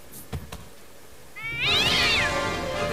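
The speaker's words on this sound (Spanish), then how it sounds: "¡Ya! ¡Gatito!" A kitten meows in the Ju-On horror video game, a single clear wavering cry rising after quiet ambience with a few faint knocks.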